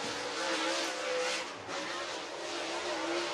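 A race car roars around the track at Whynot Motorsports Park in Meridian, Mississippi, a sustained loud engine drone with rising and falling pitch as it passes, no voices over it.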